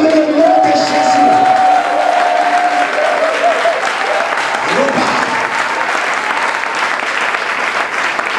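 A church congregation at a French-language worship service bursts into loud applause and cheering for Jesus, with whoops and a long held vocal tone over the clapping, which tapers but continues to the end.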